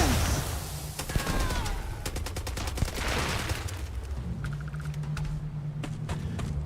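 Gunfire rattles in the video game Starfield, with bursts of rapid automatic shots and a few single cracks over a low ambient hum, fairly loud and close, with no talking.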